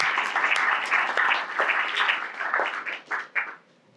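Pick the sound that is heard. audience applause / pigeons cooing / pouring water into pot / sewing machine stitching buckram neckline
audience applause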